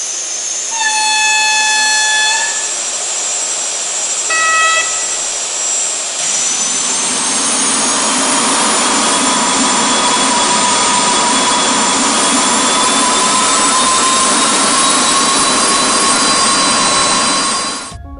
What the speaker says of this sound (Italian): Il modello Fleischmann è ora disponibile con il caratteristico suono della turbina a gas in entrambe le motrici di testa